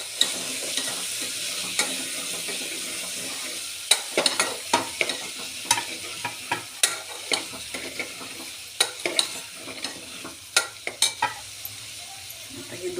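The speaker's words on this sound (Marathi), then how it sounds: "नंतर हे बटाटो टाकायचे आता ह्याला आपण छान हलवून घेऊया" Vegetables for a home-style veg pulao, peas, broad beans, cauliflower and potatoes, stirred in a pot with a spoon, giving a steady sizzle broken by repeated sharp scraping clicks that grow more frequent toward the end.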